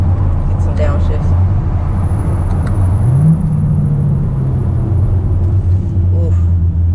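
A car fitted with a cold air intake drones under heavy road rumble, and midway a single throttle blip flares the revs up before they settle again on a downshift.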